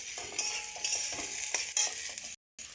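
A spoon stirs bitter gourd and radish curry with salt, turmeric and green chilies in a frying pan, giving a continuous sizzle with scraping strokes and a brief cut to silence near the end.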